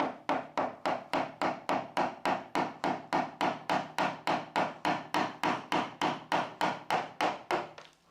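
A mallet strikes a chisel cutting into a wooden door, about thirty sharp, evenly spaced knocks in a steady, close rhythm with no talking.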